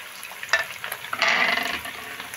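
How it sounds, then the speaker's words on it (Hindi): Beef kofta frying in hot oil, a steady close sizzle with bubbling that swells louder midway through the short stretch, no voices. "जब तक कि हमारे ये कोफ्ते फ्राई होते हैं"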